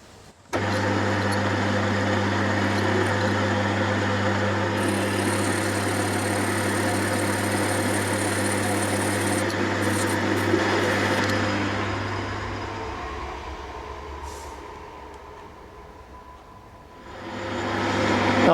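Metal lathe taking a light skim cut across a workpiece face, a steady loud motor hum with a continuous high cutting whine that eases off and then returns toward the end.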